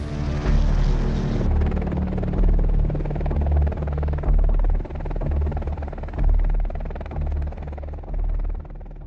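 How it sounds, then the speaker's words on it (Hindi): Boeing AH-64E Apache attack helicopter with a loud, steady rotor throb and deep rumbling drone that pulses rhythmically and fades slightly over time, with no voices. "AH-64E अपाचे का अत्याधुनिक और अपग्रेडेड वर्जन आज के समय में यह तकनीकी तौर पर दुनिया में सबसे उन्नत और घातक अटैक हेलीकॉप्टर है।"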